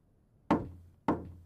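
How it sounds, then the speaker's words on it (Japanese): Two sharp knocks on a door about half a second apart, close and clear in an otherwise quiet room. "ノック"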